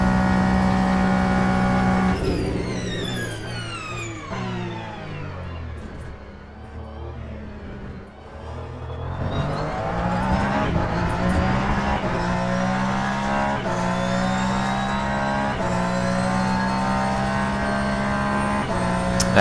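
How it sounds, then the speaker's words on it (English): A race car engine in the game Le Mans Ultimate roars continuously, dipping in pitch as it brakes into turn 1, then climbing again through rising gear changes; loud and close, with no talking. "have a close listen to the braking sound into turn 1 and from the acceleration"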